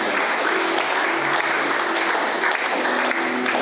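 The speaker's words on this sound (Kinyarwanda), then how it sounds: "turagukomeye amashyi menshi" Audience applause at a church gathering, a steady, dense wash of clapping from many hands that holds at an even level throughout, with no talk over it.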